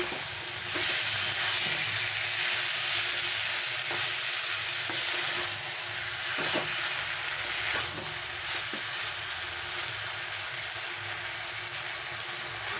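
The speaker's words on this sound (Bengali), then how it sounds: "এবারে আমি এর মধ্যে সেদ্ধ করে রাখা মটর ডালটা আমি দিয়ে দিলাম" Boiled matar dal is stirred into cooked bottle gourd greens in a pan, giving a steady hissing sizzle with periodic scrapes and taps of a spoon, close and uninterrupted by speech.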